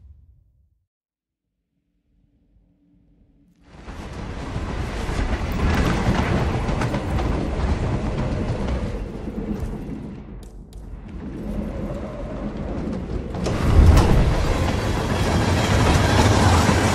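Train in the Hitman 3 video game: after a few seconds of near silence, a loud, continuous rumbling clatter starts, dips briefly, then surges again near the end.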